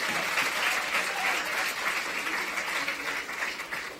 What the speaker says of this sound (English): Can we have a round of applause for all our award winners